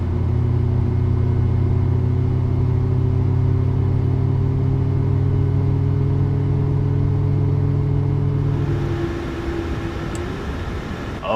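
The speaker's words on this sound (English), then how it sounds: "Introduce fuel on engine 2." Aircraft engine spinning up in Microsoft Flight Simulator 2020, a loud steady droning hum with layered tones that shifts near the end as fuel is introduced to engine 2 and the start catches, with no talk.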